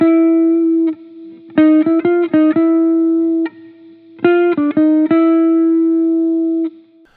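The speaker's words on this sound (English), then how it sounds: "A bebop enclosure is a series of notes that approach a target note from both above and below." A jazz bebop enclosure phrase plays on a single instrument with a clean, sustained tone: one held note, a quick run of short notes circling the target, a long held note, then the pattern repeats.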